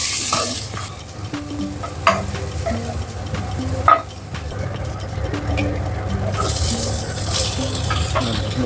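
Onion, ginger and garlic fry and sizzle in oil while being stirred, with a steady hiss broken by occasional spatula knocks against the pan.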